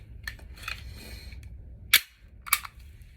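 A SIG P320 pistol fires reloaded 9mm rounds, two sharp shots about half a second apart, the first standing out over quieter handling noise.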